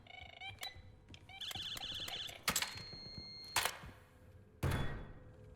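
Short electronic beeps and chimes from the Call of Duty Warzone game interface, a quick cluster of tones followed by a few sharp thumps, fairly quiet and close, with no talk.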